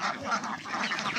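Ducks on a farm quacking in a steady, overlapping chorus, fairly close and continuous throughout with no talk over them.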